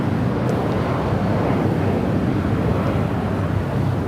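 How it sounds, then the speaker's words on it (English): A JetBlue Airbus A321 jet airliner roars steadily and loudly at an airport, its broad engine rumble constant throughout with some wind buffeting, no voices. "JetBlue A321 heading to Newark"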